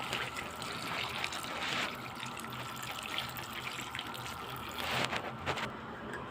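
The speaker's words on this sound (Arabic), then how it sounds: "ننزل بالشوربه بتاعتنا كده" Broth pours steadily into a pot of packed stuffed vegetables (mahshi), a soft continuous splashing trickle that swells slightly toward the end.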